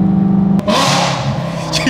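A BMW E92 M3 with a straight-pipe exhaust revs loudly and close by, a steady roar that briefly dips and then surges again.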